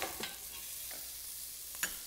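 Meat browning in a casserole pan for a stew gives a soft, continuous sizzle, broken by a few quick scraping stirs.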